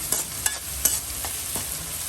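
Salted onions sautéing in a pan sizzle steadily up close, broken by several sharp scrapes and taps of a spatula stirring them; no voices.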